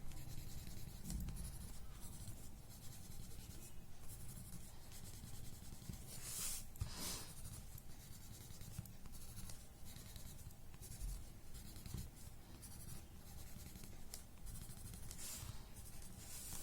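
Graphite pencil shading on paper in a tangle drawing, a faint close scratchy hiss of continuous strokes with short repeated back-and-forth passes, no voices.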